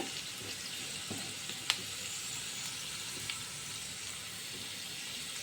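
Spices and chili frying in a pan make a soft, steady hiss with a few faint pops and one sharper crackle, close by and without speech.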